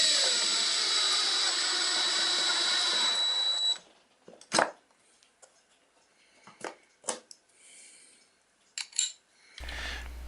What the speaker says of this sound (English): those pocket hole screws are being screwed down tight